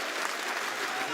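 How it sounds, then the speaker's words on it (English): Dense, steady crowd roar from a packed arena at the Six Invitational esports finals in Paris, rival fan chants blended into a continuous wall of cheering with applause-like texture throughout. "You can hear the rival chants."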